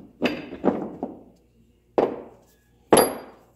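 A hammer strikes a cardboard rocket tube five times while a 3 lb whistle rocket is being pressed: three quick knocks, then two single blows with pauses between, each a sharp close thud with a short ring.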